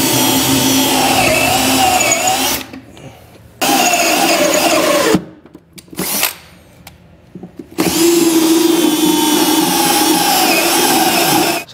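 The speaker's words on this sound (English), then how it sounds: "and start bolting it from underneath." Power tool bolting a Curt custom fifth wheel rail with carriage bolts from underneath a 2018 Chevrolet/GMC truck: loud, steady whirring runs in long bursts with two short pauses, close and alone.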